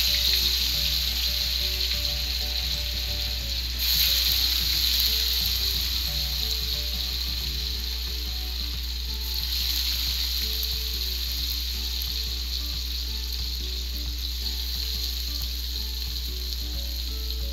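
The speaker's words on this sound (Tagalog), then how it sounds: "pipirituhin muna natin ang tokwa at hayaan natin to na maluto" Tofu fries in oil in a pan with a steady, continuous sizzle that holds at an even level throughout, alone with no talk.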